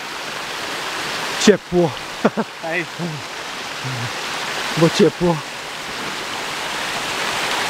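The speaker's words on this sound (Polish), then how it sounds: "No i doszliśmy znowu do wodospadu." A mountain waterfall on Großer Muntanitz makes a steady, loud, broadband rush the whole way through. Voices talk briefly over it near the start and again in the middle.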